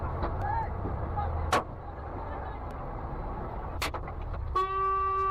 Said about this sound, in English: Yeah, because he was honking.